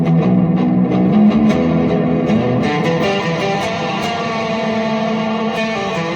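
An electric guitar played through the room reverb setting of an inexpensive AFOT tuner pedal, with sustained chords and notes blooming into a moderate, even ambience that holds steady at close, loud level.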